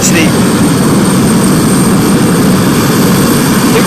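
An Embraer E195-E2 jet on approach and arrival at London City Airport, a steady loud engine roar filling the whole stretch without a break.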